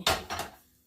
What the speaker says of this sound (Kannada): ಕುಕ್ಕರ್ ಬಿಸಿಗೆ ಮಡಗ್ತಾ